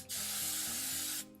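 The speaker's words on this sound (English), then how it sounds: "I'm gonna spray them with hairspray" Hairspray sprays from an aerosol can onto a period wig being styled, one steady hiss of a bit over a second, close and fairly loud over a low mechanical hum.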